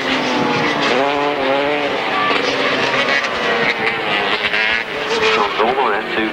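Grasstrack racing motorcycles at the Staplecross circuit roar around a turn, one rider on a new machine with new front forks, their engines whining and rising continuously and loud beneath a commentator's steady talk.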